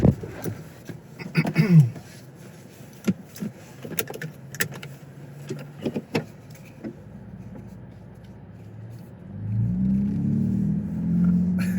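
Ford Bronco Raptor engine rumbling and building into a throaty exhaust roar as it accelerates, after earlier clicks and knocks from inside the cabin.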